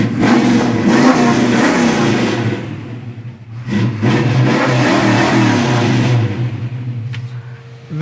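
A classic car with a built motor and 5-speed manual revs hard and close, its engine roaring in strong rising and falling surges, then easing toward a lower rumble near the end.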